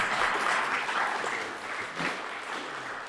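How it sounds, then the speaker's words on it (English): An audience at a KansasFest talk breaks into a round of applause for a surprising announcement, a dense wash of clapping that holds steady and then tapers slightly toward the end. "This is where you clap."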